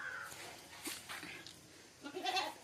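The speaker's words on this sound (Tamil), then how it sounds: "எங்கள் ஆடு புதுசாக ஒரு குட்டி போட்டுக்குது." A newborn goat kid bleats in thin, high cries, several short calls spread across the clip over a steady background hiss, close by.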